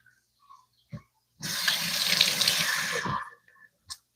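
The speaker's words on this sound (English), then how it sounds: "we're just gonna give it a little rinse" Tap water runs in a steady close gush for about two seconds while something is rinsed, framed by small clicks and clatter before and after.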